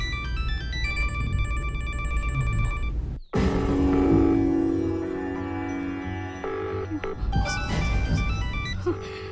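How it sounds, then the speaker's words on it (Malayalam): A repeating electronic telephone ring tone, loud and near, with a brief break and a change of pattern partway through. "ഫോൺ റിങ് ചെയ്യുന്നുണ്ട്, പക്ഷെ ആദ്യം ഫോൺ എടുക്കുന്നില്ല"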